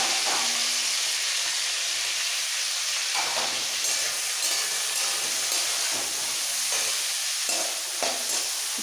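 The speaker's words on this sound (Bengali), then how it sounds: "এরপর নেক্সট দিয়ে দিচ্ছি গাজর আর বিনস," Carrots and beans sizzle loudly in a pan of hot oil while being stirred for vegetable fried rice, making a continuous hiss with occasional scraping and stirring sounds close by, with no voices.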